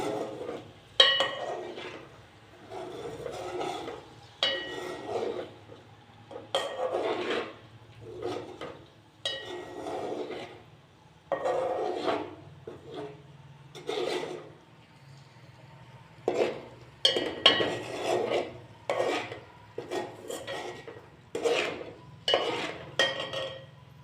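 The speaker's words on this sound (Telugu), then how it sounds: "లైట్గా కలుపుకోవాలి" Egg fry being lightly stirred and mixed in a pan, with a steady run of close scraping and clinking strokes from a spoon against the pan over a low background hum.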